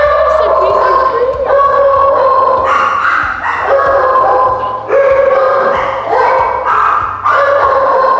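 Two puppies bark repeatedly in a loud indoor space at an adoption: close, sharp yips and barks in quick bursts, some sliding into whines, over a constant background hum.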